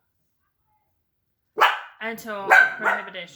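After a stretch of silence, a dog barks sharply up close, followed by a short spoken phrase that overlaps the barking.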